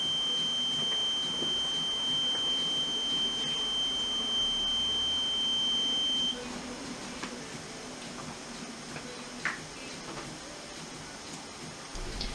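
A steady high-pitched electronic alarm tone from a reconditioned smoke detector head under test sounds continuously for about six seconds, then stops, leaving quiet room ambience with a few faint clicks.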